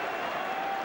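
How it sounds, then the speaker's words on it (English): A packed stadium crowd at a Rugby World Cup semi-final between France and the All Blacks, cheering and roaring in a steady, dense wall of sound with no break. "Listen, this crowd, it's incredible."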